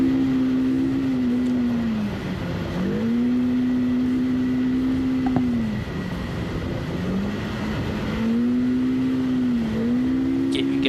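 An off-road race car pushed hard during a desert race near Parker Dam roars loudly and continuously, its engine tone climbing and falling in repeated rev cycles every few seconds, with no voices over it.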